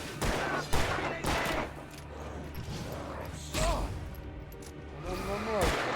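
Gunfire in the video game Alan Wake comes as repeated loud shots and thuds mixed with creaking, mechanical game effects. Someone talks intermittently over the action.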